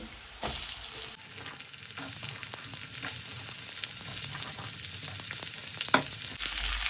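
Ginger and garlic frying in oil in a pan just before onion goes in, a soft close sizzle with crackles and stirring scrapes, starting after a brief pause and running steadily with no talk.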